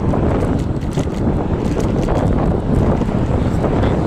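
Steady, heavy wind buffeting the microphone while riding a 2021 48V Apollo Light electric scooter, a continuous low rumbling roar that fills the whole clip with no pauses.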